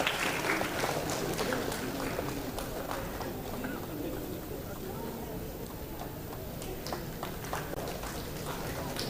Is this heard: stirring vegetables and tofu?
no